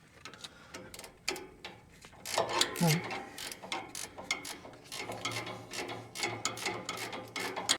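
Regular ratchet with a deep well socket turning a bolt while removing a truck's steering stabilizer: repeated clicking ratchet strokes in uneven bursts, close up, with shop clatter around them.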